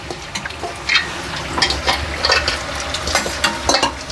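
Murukku fry in hot oil with a close, continuous bubbling sizzle, punctuated by repeated scraping stirs of a ladle at an irregular rhythm, no speech.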